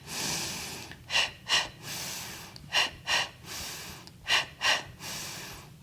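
Forceful nasal breaths repeat in pairs, three sharp exhale-inhale bursts spaced about every 1.5 seconds, close and loud over quiet room tone while a person performs a Pilates exercise lying face down on a mat.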